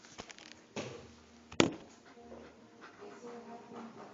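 A dog named Lila whimpers and pants close by, with soft scrabbling and one sharp knock partway through; the sounds are quiet and intermittent, with no talking.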